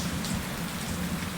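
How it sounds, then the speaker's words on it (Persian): Steady rain falls on an outdoor spot beside a barbecue grill with kebabs on it, a continuous even hiss of drops spattering on surfaces, close and moderately loud, with no voices. "بالاخره بارون ما دیدیم اینجا"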